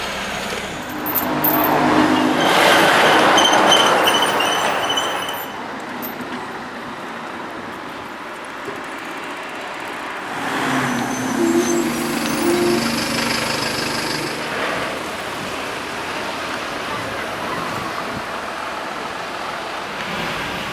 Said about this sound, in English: We're now driving the ponies out in the owner's carriage.